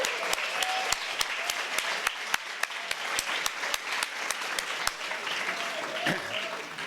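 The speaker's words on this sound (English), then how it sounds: "let's hear a big round of applause for our music entertainment tonight" An audience at a small live music venue applauds a band, a dense wash of clapping with sharp regular claps standing out, with a few voices mixed in.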